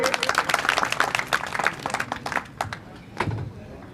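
A crowd at a BJP political conference applauds with dense, rapid clapping that gradually thins out and fades toward the end.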